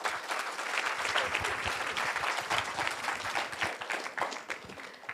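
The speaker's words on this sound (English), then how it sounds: "A big round of applause to them." A large student audience at a student council election applauds the candidates, dense sustained clapping from a big crowd filling the hall at moderate level.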